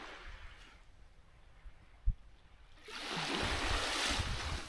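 Sea waves on an autumn beach at Krynica Morska, a soft steady wash that surges louder as a wave rolls in, with no talking.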